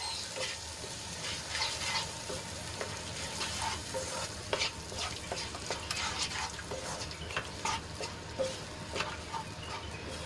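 Ground yogurt paste being stirred into frying onions in a pan for a quick Gujarati shaak, a soft steady sizzle with scraping spoon strokes, fairly quiet and continuous.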